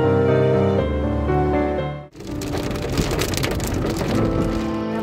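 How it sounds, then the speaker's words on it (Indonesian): Heavy rain begins suddenly after a stretch of music, a dense, steady hiss of drops pouring onto surfaces close by, continuing without pause to the end. "Ternyata ini hujan ya di daerah sini"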